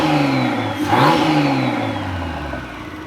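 A Nissan R31 Skyline's engine runs hot and revs, its pitch climbing to a peak and then easing back while staying loud and close throughout, with no talk.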